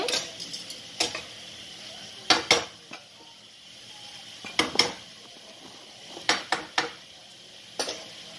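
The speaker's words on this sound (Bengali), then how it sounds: "তো অবশ্যই এটা নাড়াচাড়া করতে করতে সেদ্ধ হবে" A spoon scraping and clinking against a pot while bottle gourd curry is stirred, producing sharp metallic knocks in uneven bursts over a soft simmering hiss, close and clear with no talking.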